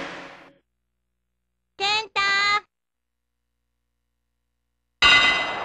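In the King of Colosseum II wrestling video game, a ring bell clangs twice in quick succession, bright and ringing, set between bursts of announcer voice before and after.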